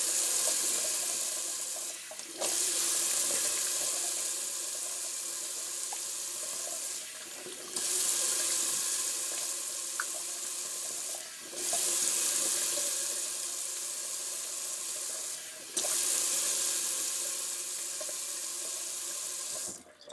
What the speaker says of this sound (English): just a little cold water rinse on the face.